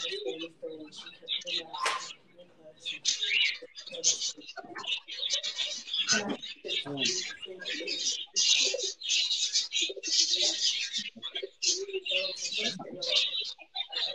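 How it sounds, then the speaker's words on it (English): Pet birds, including a grey parrot, squawk and chirp almost nonstop, fairly close and busy, while a person talks over them. "There's all these other birds squawking and flapping around."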